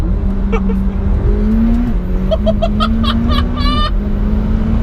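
A McLaren 720S engine revs hard through rising gears, its pitch climbing and dropping with each shift, heard loud and close from inside the car.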